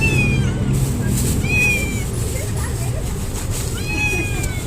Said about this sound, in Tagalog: Gandang pusa, oh.